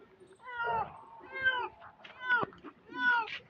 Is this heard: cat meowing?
yes